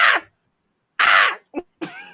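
A voice imitates a crow cawing during a comedy talk, giving three or four harsh caws: a long loud one, a pause, another long caw, then two shorter clipped ones.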